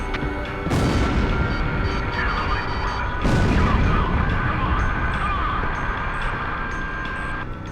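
Big booming blasts as anti-aircraft gun emplacements are destroyed in the Ace Combat combat flight game, two heavy broadband explosions roughly three seconds apart over a steady roar of jet engine and game music, with faint beeping lock-on tones near the end.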